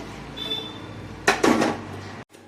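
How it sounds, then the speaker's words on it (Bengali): Soaked, washed rice stirred in a pot with a spatula, a short scraping clatter of metal against the pot lasting under a second, close, before a sudden cutoff. "দিয়ে এবার খুন্তিটা করে নেড়ে দেবো"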